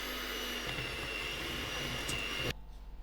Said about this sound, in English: And now I'm ready to use my electric whisk.